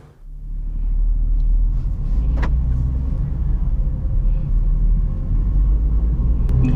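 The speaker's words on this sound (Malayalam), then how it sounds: "driving the Alto K10" A 2022 Maruti Alto K10 with an AMT automatic gearbox drives along, its steady engine and road rumble filling the cabin at a constant close level throughout.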